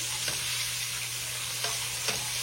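Food frying in a pan, a steady sizzle with a low hum running under it and a few soft clicks as pieces are turned.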